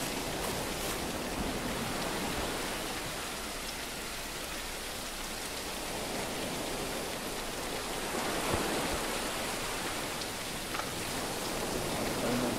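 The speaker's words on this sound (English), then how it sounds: "Raining again already." Rain falling in the island survival game Eden Island: a steady, soft hiss of dense rainfall on surfaces, even and unbroken, fairly quiet and with no talking.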